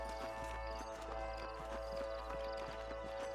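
Horse hooves clip-clop steadily in Red Dead Redemption 2, several horses walking on a rocky canyon trail, a close repeating clatter over a low ambient hum with no talk.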